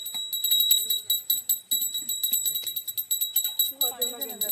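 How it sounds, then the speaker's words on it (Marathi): A small puja bell rings in rapid, repeated strokes, bright and metallic, with voices talking over it close by. "अरे घंटी नाही वाजवायची काय? आम्ही वाजवतो."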